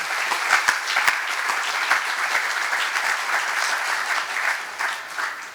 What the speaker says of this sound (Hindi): हम सब ताली बजा के इस स्थान की बड़ी प्रशंसा करें।